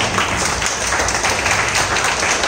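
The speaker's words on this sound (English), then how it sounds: "Once again, a big applause." Audience applause at an ADRS training program session, a steady dense wash of clapping at even loudness throughout, without talk.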